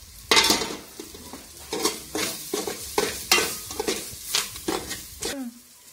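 Curry leaves and fresh coriander sizzle in hot oil for a dal bati tempering, with repeated stirring scrapes and bursts of crackle coming close and fairly loud in an uneven rhythm.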